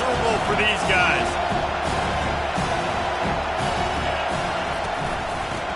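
A college football video game's stadium crowd roars as a dense, continuous wash of noise with a few brief louder swells, heard under talking voices.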